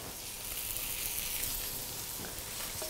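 Crushed garlic and fresh herbs sizzling in hot oil in a pan alongside a sea bream fillet, a steady close frying hiss throughout with no talk.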